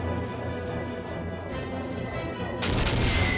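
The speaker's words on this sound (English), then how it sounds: "the crystal cannon has pretty low accuracy, but hits real hard" Crystal cannon fire in Skies of Arcadia: Legends, a rapid series of heavy, pulsing booms over a droning game background, ending in a bright, louder crash.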